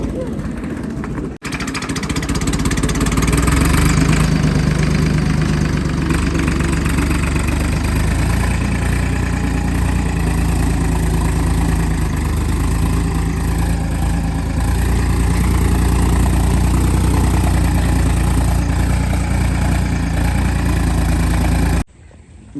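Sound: tractor engine idling

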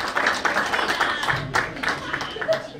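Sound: applause

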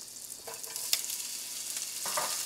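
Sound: sliced onion cooking in melted butter

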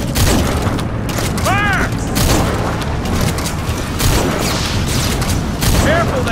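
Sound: gunfire in the video game Metal Gear Solid V

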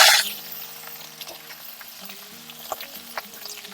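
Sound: okra frying in hot oil

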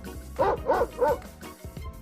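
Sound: dog barking

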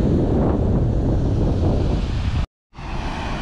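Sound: wind and sea waves at an abandoned seaside resort

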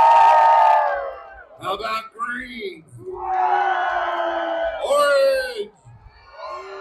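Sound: crowd cheering at pig races

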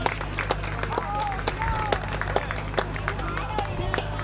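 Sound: audience applause at a parade

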